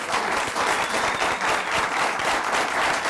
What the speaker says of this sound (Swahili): Wapi makofi ya mheshimiwa?